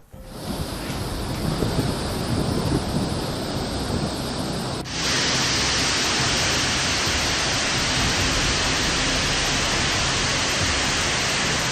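Heavy monsoon rain pours in Gujarat's Saurashtra region during record-breaking flooding, a dense, continuous roar of downpour that stays loud and unbroken throughout, with no voices.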